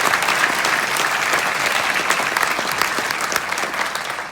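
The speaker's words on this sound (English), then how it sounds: "Let's give them a round of applause" A crowd at a New York State Senate inauguration claps for election candidates, a dense, continuous burst of applause that stays loud and even before tapering slightly at the end.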